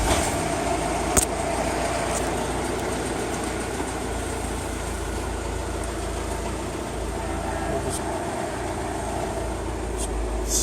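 Mitsubishi Pajero engine idling after a V5A51 five-speed automatic transmission solenoid and leak repair, a steady low rumble with a faint whine, fairly loud and constant, with a couple of brief clicks.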